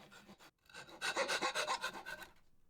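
A scraper or file trims excess binding along the edge of a guitar neck, giving a run of steady raspy strokes that sound close and fairly loud before trailing off, with no talk.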